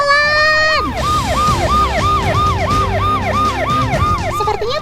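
A loud ambulance siren wails close by, starting with a rising tone and then settling into a rapid repeating yelp, with traffic rumble underneath.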